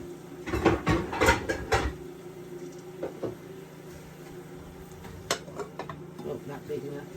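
Metal pots and pans clank and rattle close by as someone rummages for a pot lid. A cluster of clattering bangs comes early, followed by scattered lighter knocks and scrapes at a quieter level.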